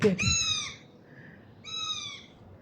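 A bird gives two harsh, drawn-out squawking calls separated by a brief pause, close and fairly clear over quiet outdoor background.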